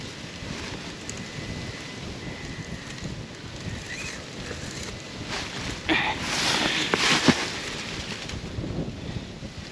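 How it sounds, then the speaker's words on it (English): Brisk, cold wind of about 15 mph blows outdoors at 35 to 40 degrees Fahrenheit. It is heard as steady low rumbling buffeting against the microphone, swelling somewhat louder with gusts toward the end. "Brisk 35, 40 degree, 15 mile an hour wind"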